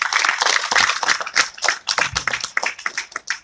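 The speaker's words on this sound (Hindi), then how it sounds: "एक बार जोरदार तालियां इनके लिए" Enthusiastic audience applause at a business plan meeting in Bareilly, with dense, loud clapping from many hands sustained throughout.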